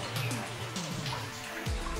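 Water drips and trickles inside a mine adit, with faint scattered drops and a soft watery wash sounding close in an enclosed space, with faint voice-like sounds underneath.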